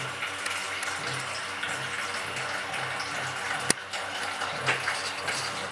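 Water runs steadily from a home water purifier tap into a vessel for black tea, a continuous soft trickling wash throughout with a faint click partway through.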